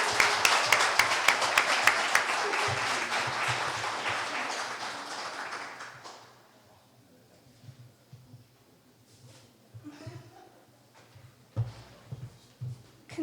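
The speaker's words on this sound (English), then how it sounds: "Give her one more round of applause." At a poetry slam at Portland Community College Rock Creek, an audience claps in a dense burst of applause for about six seconds, then fades to scattered faint claps and room noise.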